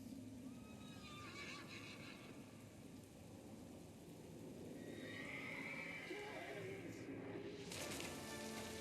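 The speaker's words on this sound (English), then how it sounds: "Anthony scared the horse." A frightened horse whinnies in a long, fairly faint call over a steady rain-like wash of background noise in a period drama scene.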